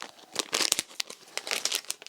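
A shiny envelope crinkles and crackles in close, irregular bursts as it is handled and turned over, loud and crisp with no talking.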